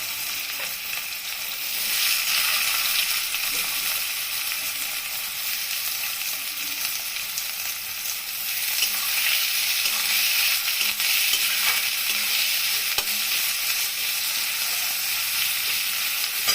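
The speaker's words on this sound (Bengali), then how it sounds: "এই অবস্থায় আমি পেঁয়াজ কুচিটা দিয়ে দিব।" Chopped onion tossed into hot oil with garlic in a pan sizzles loudly and steadily, swelling as it is stirred, with faint utensil scrapes and no talking throughout.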